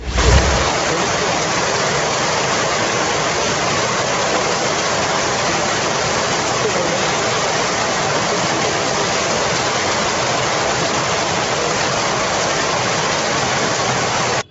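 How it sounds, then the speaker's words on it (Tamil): Heavy rain pours down steadily and loudly as a dense, unbroken roar of water in Devala near Gudalur in the Nilgiris district, lasting the whole stretch. "நீலகிரி மாவட்டம் கூடலூர் தேவாலா மற்றும் சுற்றுவட்டார பகுதிகளில் செவ்வாய் மாலை நான்கு மணி முதல் இரவு பத்து மணி வரை கனமழை கொட்டி தீர்த்தது"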